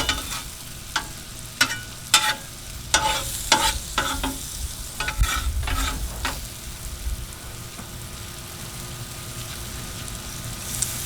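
Ribeye steaks sizzling in butter on a 22-inch Blackstone griddle, a constant crackling fry with scraping and clacking of a spatula in the first half, near and steady.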